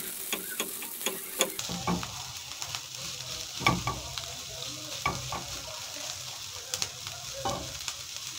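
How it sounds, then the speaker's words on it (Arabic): Onions sizzle and crackle steadily as they caramelize in hot oil, with occasional louder stirring clatters and scrapes close by. "هكرمل البصل شوية"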